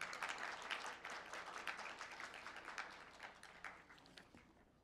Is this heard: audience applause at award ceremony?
yes